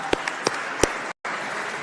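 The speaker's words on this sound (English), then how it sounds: "let's have a round of applause for Jordan Flowers and all he and the Disclosure Foundation team have done" An audience at a UFO disclosure forum on Capitol Hill applauds, a steady, even wash of clapping broken by a few sharper, closer claps and one brief dropout.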